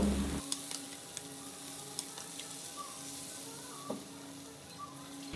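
Chana dal and soybean frying with spices in hot oil, giving a steady close sizzle that runs throughout with a few faint clicks of stirring on top.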